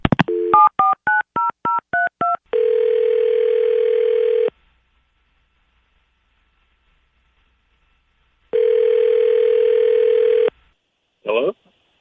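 Telephone call placed for a radio station's live call-in segment: a rapid string of touch-tone dialing beeps, then two long steady ringback tones separated by silence, and a short burst of noise at the end.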